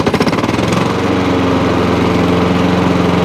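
A Honda HRX537 lawn mower engine running after a carburetor cleaning, loud and close, with a steady, even idle and a fast regular pulse and no hunting.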